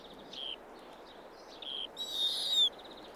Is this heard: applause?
no